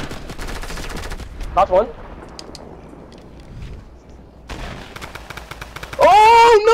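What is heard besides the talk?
gunfire in Fortnite video game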